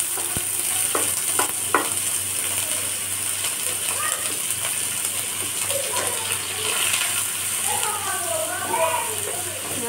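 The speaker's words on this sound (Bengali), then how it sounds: "পেঁয়াজটা লাল লাল করে ভেজে নেব।" Chopped onions fry in a pan with dried red chillies, making a constant near crackling sizzle with stirring clatter, and a voice briefly murmurs toward the end.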